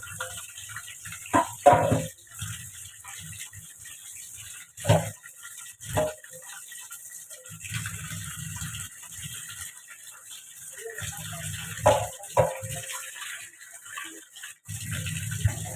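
A large tangra fish being washed under running water in a home kitchen, with intermittent splashing and handling noises over a steady low hiss of flowing water, punctuated by a few sharper clatters.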